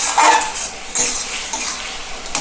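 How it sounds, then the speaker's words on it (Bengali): Greens (punka shak) being stirred through a tempering of spices in a hot pan: scraping spoon strokes over a steady sizzle, with a few louder clanks of utensil on the pan, close and alone without talk. "এবার ভালো করে একটু ফোড়নটার সঙ্গে শাকটা মিশিয়ে দিই"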